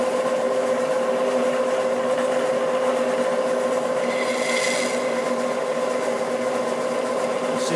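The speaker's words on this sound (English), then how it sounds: "Okay, this is our drill reamer." A drill reamer takes a few thousandths out of a hole on a milling machine, giving a steady, continuous grinding hum with a mild scraping texture that runs evenly throughout, close and moderately loud.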